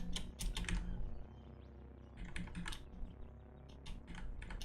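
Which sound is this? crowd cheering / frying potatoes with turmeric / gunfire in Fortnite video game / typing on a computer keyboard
typing on a computer keyboard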